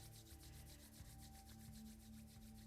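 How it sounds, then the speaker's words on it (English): Hands rubbing briskly together during a gentle yoga warm-up, a rapid, even rhythm of soft swishing strokes, close and quiet over a low steady hum, with no talking. "Let's rub the hands together."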